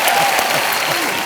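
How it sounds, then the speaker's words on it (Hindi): Audience applause on a televised quiz show, dense and loud steady clapping from a studio crowd throughout the brief moment. "हाँ, तालियां।"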